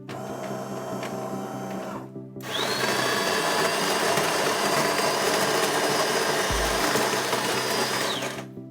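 An espresso-style coffee machine whirs and buzzes steadily as it brews coffee, a brief lower motor hum giving way after a short pause to a louder sustained pump drone with a high whine that runs for several seconds, with no speech.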